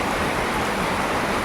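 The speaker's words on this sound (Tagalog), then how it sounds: "Kasi ang ulan eh." Steady rainfall outdoors, a constant close hiss of drops at moderate level with no break and no talk.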